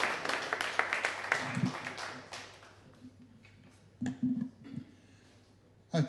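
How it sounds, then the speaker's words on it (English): Audience applause for two speakers at a WordPress London evening meetup: a burst of clapping that fades within a few seconds, followed by quiet room sound with a few scattered taps and bumps. "I think they deserve another big round of applause"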